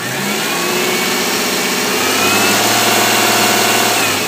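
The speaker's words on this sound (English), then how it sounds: "It's actually missing on every cylinder except for one." A 2001 Subaru Outback engine misfiring on all but one cylinder runs steadily up close, a loud, rough, uneven idle with a lumpy low throb and no talking.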